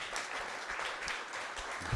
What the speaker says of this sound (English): big round of applause for Brad.